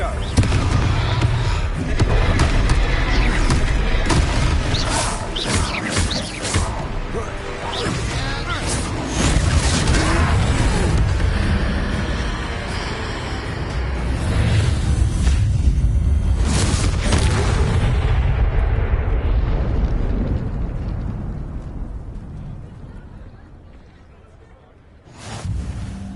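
A Confringo explosion spell in a Harry Potter video game during a troll fight: repeated loud booms and thudding bursts over busy game noise and character voices, fading near the end before one last short hit.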